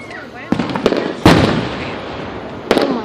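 Big fireworks going off outdoors, several loud sharp bursts each trailing into crackling and rumbling decay, with voices talking.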